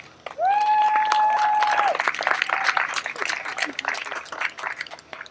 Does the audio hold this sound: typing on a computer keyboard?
no